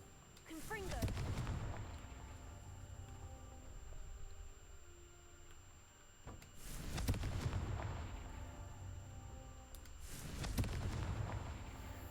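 The Confringo fire spell in a video game side quest sets off three booming explosions with rumbling tails, spaced a few seconds apart, while a voice speaks quietly beneath.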